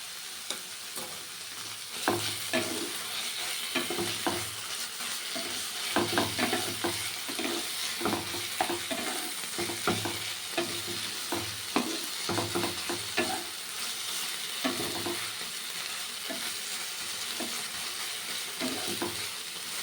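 Taro leaves with coconut frying in a pan, an even crackling sizzle running throughout, punctuated by frequent rhythmic scrapes and taps of a spatula stirring the greens up close.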